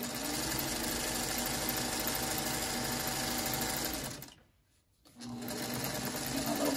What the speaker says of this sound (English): So I'm going to sew that to that.